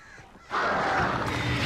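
Crows caw in the video game Alan Wake, heard as a brief, loud, harsh burst of cawing that starts after a moment of quieter background and fills the rest of the clip.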